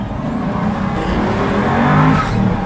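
A Pagani supercar engine pulls hard under acceleration on a twisty road, its loud steady roar rising slightly with a faint whistle of turbo spool, no talking.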